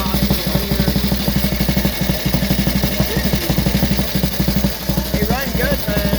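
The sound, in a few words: 1930 Benelli 175 vintage motorcycle engine running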